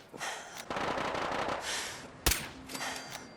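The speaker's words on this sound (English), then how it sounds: "even helped take a few shots at the Gutsy" Gunfire in a video game aimed at a robot enemy: a single sharp shot stands out among rushing, hissing noise bursts, quiet overall and without speech.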